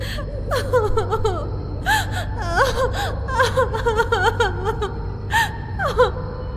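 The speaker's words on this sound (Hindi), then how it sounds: "उसे वहां पर एक लड़की के रोने की आवाज सुनाई दी" Horror sound effect of a girl crying: breathy, wavering sobs and gasping whimpers in irregular bursts, close and fairly loud over a low rumble, with no speech.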